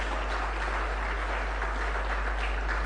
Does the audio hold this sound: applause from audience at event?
yes